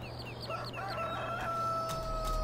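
A rooster crows from a Farming Simulator 15 farm, a long drawn-out cock-a-doodle-doo over a steady low mechanical hum, with faint clucks mixed in.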